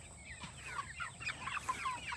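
Pastured chickens clucking, a run of short, choppy clucks and murmurs in quick succession, fairly close and moderately loud over a soft background hum.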